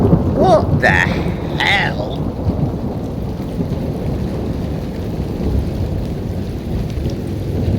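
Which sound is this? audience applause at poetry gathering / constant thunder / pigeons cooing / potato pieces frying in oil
constant thunder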